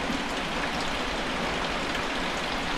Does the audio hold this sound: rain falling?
yes